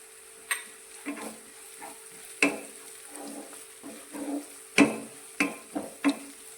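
Garlic, ginger and green chilies sauté in a pan for a Gujarati ringan olo, giving soft intermittent sizzles with sharp stirring clatters that recur every second or so, close and moderately loud.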